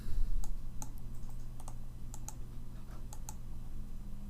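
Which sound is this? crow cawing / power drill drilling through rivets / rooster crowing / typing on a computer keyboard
typing on a computer keyboard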